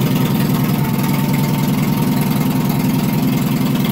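An International 424 tractor idles just after starting, a loud, close, steady low engine chug with an even pulsing rhythm and no other sounds.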